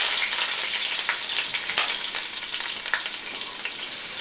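Onion sizzles in a small amount of oil in a pan while chiles rellenos de queso are being made, a steady close crackling hiss with scattered sharper pops throughout and no voices.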